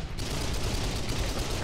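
Dense, continuous gunfire from the video game Kane & Lynch: Dead Men, a loud unbroken rattle of shots with voices mixed in underneath.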